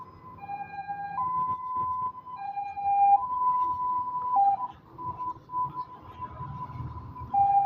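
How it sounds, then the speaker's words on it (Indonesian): An ambulance siren on an Indonesian road, heard while riding a Polytron Fox R electric motorcycle: a steady two-tone wail that alternates over several seconds, at moderate distance, with road and wind noise beneath and a rider talking. "Ada ambulan."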